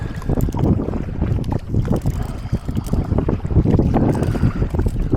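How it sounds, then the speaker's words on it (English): Outdoor wind buffets the microphone on a canoe trip on the Norfolk Broads, producing loud, uneven low rumbling gusts that swell and fade throughout. "There is a little bit of wind, you can probably hear it on the microphone."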